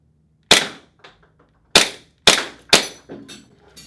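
Tokyo Marui M9 airsoft pistol firing at a Texas Star steel target: four sharp, loud cracks, the first alone and the last three in quick succession, each followed by faint pings of BBs striking metal plates.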